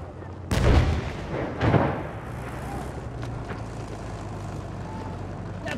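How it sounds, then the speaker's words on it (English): Tank cannon fire in Battlefield 1, two heavy booming blasts close together followed by a low rumbling engine drone with faint distant battle noise. "That's a tank!"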